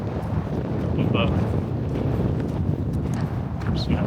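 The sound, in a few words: wind blowing into microphone outdoors in Iceland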